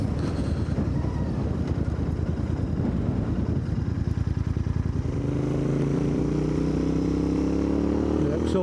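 Royal Enfield Interceptor 650 motorcycle engine revving up past 5,000 RPM while riding, a steady dense drone under heavy wind buffeting, with rising harmonic tones toward the end as the engine climbs.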